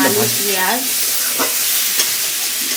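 Potato pieces fry in a hot pan while being stirred, giving a loud, close sizzle broken by scraping stir strokes, with a brief tonal squeak near the start.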